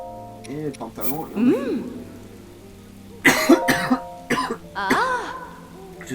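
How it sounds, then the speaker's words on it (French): A man coughs and clears his throat several times during a French-language Breath of the Wild game session, the harsh bursts coming in clusters close to the mic alongside game sounds. "Je suis désolé pour la toux, les amis."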